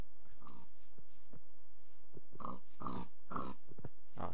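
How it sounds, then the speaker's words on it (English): Pigs in the video game Minecraft squeal and grunt as they are attacked and killed, a series of short, close, repeated oinks and squeals in an irregular rhythm, with no talking. "I'm gonna have to kill one of these piggies. Piggy, piggy, piggy. Squeal, little piggy."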